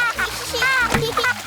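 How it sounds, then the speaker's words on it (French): A cartoon child kicks its legs in a swimming pool, making brief splashes under a voice talking. "Mais n'éclabousse pas autant"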